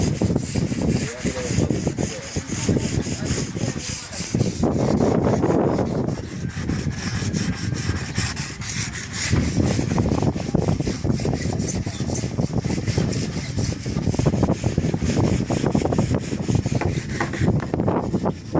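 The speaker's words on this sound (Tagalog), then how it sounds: "Liha muna tayo." Close, steady rasping of sandpaper worked back and forth over wood in continuous rhythmic strokes, with occasional faint voices in the background.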